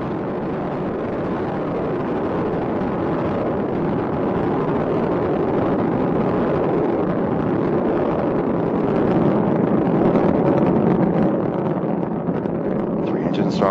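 Space Shuttle Endeavour's engines roar during a night launch, a loud, dense, continuous rumble that holds steady and swells slightly toward the end, with a voice faintly present underneath.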